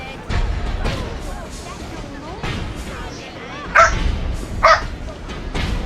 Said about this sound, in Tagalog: May narinig kayong aso.